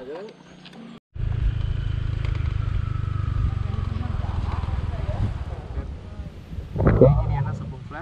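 A motorcycle is ridden on a rough road, its engine rumbling steadily and strongly across the stretch with wind buffeting the microphone, a brief bump or clatter near the end, and voices talking at times.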